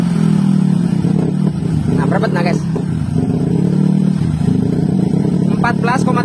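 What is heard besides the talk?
Honda Vario 150 motorcycle engine revving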